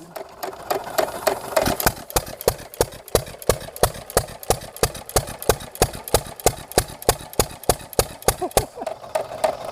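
An Eaton hit-and-miss engine running under load fires in quick, evenly spaced chugging beats. The sharp, regular exhaust pops are close and distinct over a low mechanical rumble.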